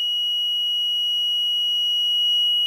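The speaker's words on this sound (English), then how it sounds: "And the buzzer is still on" A PIC-based water alarm's buzzer sounding after water is detected, one continuous high electronic tone held steady and loud throughout with nothing else audible.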